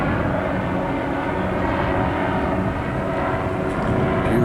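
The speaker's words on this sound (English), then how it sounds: "Choppers out." A police helicopter passes overhead on a night in Las Vegas, its steady engine and rotor drone filling the air continuously and fairly loud, with no talk over it.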